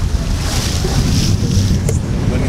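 A boat rides up and down over ocean waves on the way between Ensenada and San Diego, with steady wind and water rush close to the microphone throughout.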